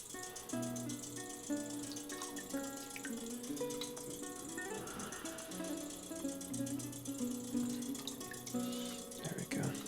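Water poured out of the inside of a tall clay pot, a continuous close gurgling splash with tonal ringing and small rattles, steady for several seconds, with faint talking in the background.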